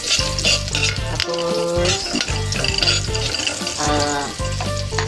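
Garlic sizzles steadily in a hot pan while a utensil scrapes and clinks against the metal in repeated stirring strokes, close and loud, with a brief spoken word.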